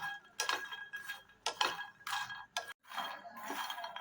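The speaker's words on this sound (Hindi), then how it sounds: "बिल्कुल धीमी आंच पर हम मखानों को रोस्ट करेंगे, बिना घी के या बिना किसी भी चिकनाई के।" Fox nuts (makhana) dry-roast in a pan over low heat with no ghee, giving faint intermittent rattling clinks and scrapes as they are stirred, quiet with short pauses between bursts.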